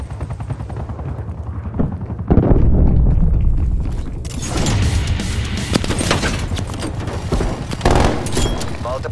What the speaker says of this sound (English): Multiple enemy sentry turrets active.